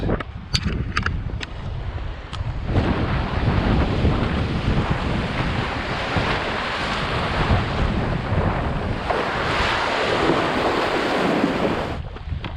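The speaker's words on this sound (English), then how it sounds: "This is Dogleg Rapids." Loud, continuous roar of Dogleg Rapids on the Lower Madawaska River in high water fills the scene, with wind buffeting the microphone and a few sharp splashes at the start.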